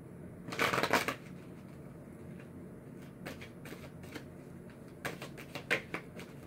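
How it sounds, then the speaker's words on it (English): Tarot cards being shuffled by hand in several quick riffling bursts, crisp and close, separated by quieter pauses with low background hum. "Okay, and I'm just going to pull a couple clarifiers."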